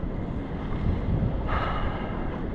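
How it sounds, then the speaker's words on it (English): Ocean surf at Rosarito Beach in Mexico, near rocks and a pier, forms a steady loud roar mixed with heavy wind buffeting the microphone, continuous and without voices. "Hopefully there's going to be a lot less waves right here than we had over there."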